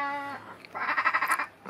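A person imitates a sheep's bleat with a wavering, vibrato voice, heard up close and alone.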